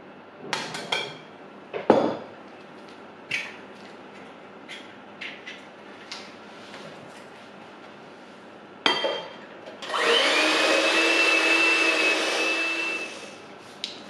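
Eggs whisked into a creamed butter and sugar mixture for a pear and almond tart batter: a few scattered knocks and taps, then a loud, steady whirring burst for the last four seconds.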